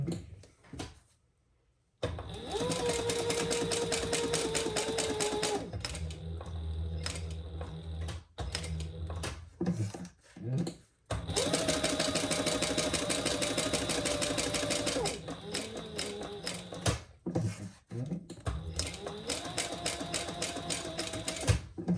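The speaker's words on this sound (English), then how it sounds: "you're sewing that together at the seam allowance in the pattern" A sewing machine stitches a seam on a clutch bag in several bursts, its fast whirring motor rising and falling between short pauses, close and clear with no talking.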